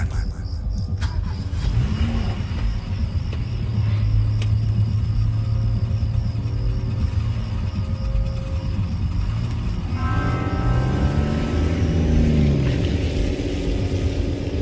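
A car engine rumbles steadily at night on a lonely road, a low continuous drone with a brief revving swell near the end, mixed under a dramatic music bed.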